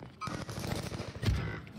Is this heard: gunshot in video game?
yes